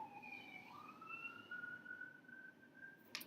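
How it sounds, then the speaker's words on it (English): An ambulance siren sweeps past at a distance, a steady rising and falling wail, faint behind quiet room tone. "wait for the ambulance to go by."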